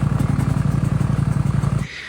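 A Ducati V4 Panigale sport bike being rebuilt for off-road use idles loud and close with a rapid, even, throbbing engine pulse for nearly two seconds before it abruptly cuts off.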